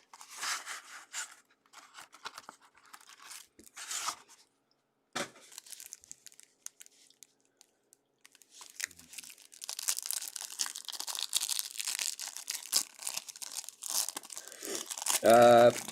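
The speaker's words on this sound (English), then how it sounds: "If I could ever get this packaging off." Plastic wrap and packaging crinkle and tear off boxes of Onyx Vintage Extended Edition trading cards, close and busy with bursts of rustling and ripping that grow denser toward the end, with occasional talk.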